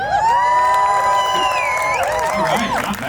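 A crowd of children cheers and whoops at an outdoor New York State Police underwater recovery team diver demonstration, a loud sustained mix of high shouts and screams throughout.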